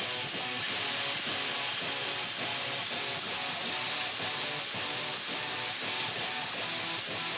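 Strips of bacon sizzle steadily on a Vevor 22-inch 1600W electric flat top griddle, a continuous close, bright hiss with a dense crackle that holds even throughout.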